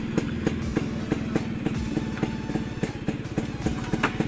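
Vespa scooter engine running nearby with a rapid, steady pulsing putter and small rhythmic surges of throttle, loud and alone throughout.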